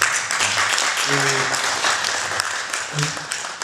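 Audience applause at an association gathering in Toulouse, a dense, sustained clapping that runs throughout the clip while a voice speaks over it at moments.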